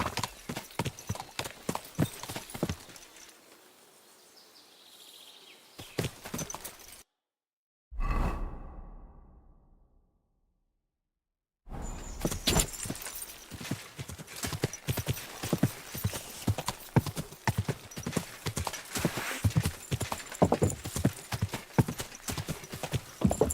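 Horse hooves clip-clop steadily in Kingdom Come: Deliverance II, a close rhythmic trot that breaks off briefly into silence, with a snort or whinny in the gap, then resumes at a brisker pace.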